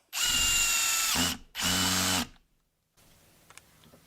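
A power drill fitted with a Hilti drill bit runs against a screw in two loud whirring bursts separated by a short pause, then quiet handling clicks follow.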